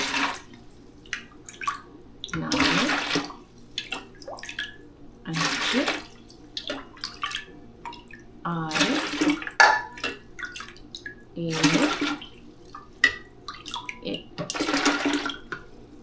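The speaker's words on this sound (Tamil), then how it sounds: "எட்டு கப் ஆஃப் வாட்டர் ஊற்றியாச்சு" Cups of water are poured one after another into a container for a kiwi bio enzyme, with about six distinct splashing pours spaced a few seconds apart and quiet drips between them, close and clear.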